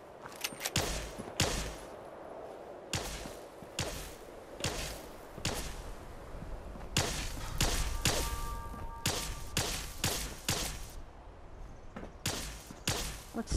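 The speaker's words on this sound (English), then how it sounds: "Using a hunting rifle." Hunting rifle gunshots in Fallout 76, a string of loud, sharp cracks fired one after another at irregular intervals over steady game ambience, with no talking.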